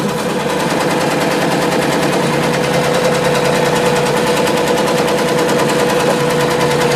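A small Happy embroidery machine fitted with a border frame runs steadily, giving a loud, fast, continuous mechanical chatter with a constant hum throughout and no voices.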